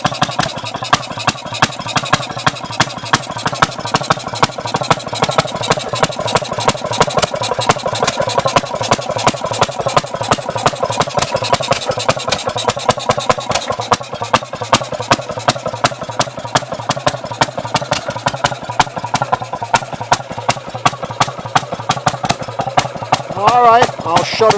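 Fairmont Model QB6 RR engine running in reverse rotation, a rapid, even single-cylinder put-put firing close up for the whole span, steady and loud, with someone speaking briefly over it.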